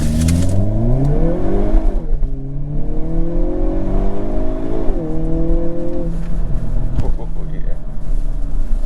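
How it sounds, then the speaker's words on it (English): A 2022 Hyundai Kona N pulling away hard at full throttle from a standing start, heard from inside the cabin, the engine revving upward loudly through several rising sweeps with brief dips at gear shifts. "alright, so we are going to try a launch control"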